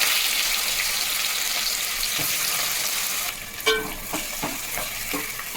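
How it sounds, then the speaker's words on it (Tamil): Chopped onion goes into hot oil tempered with fenugreek in a pan for a fish curry, bursting into a loud, steady sizzle, then crackling and a few stirring clinks. "வெங்காயம் போடுறது,"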